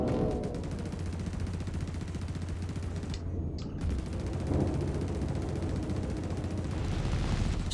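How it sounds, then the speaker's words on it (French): In the video game Star Citizen, an Anvil F7A MKII fires machine guns in a dense, continuous rattle of gunfire, loud and close, layered over a steady engine hum. "un petit peu de mitrailleuse"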